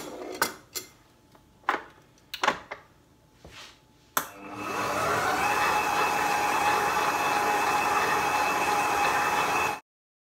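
After a few scattered clinks and taps, an electric mixer whirs steadily for about five seconds as it mixes butter into cream for a strawberry tart, then cuts off abruptly.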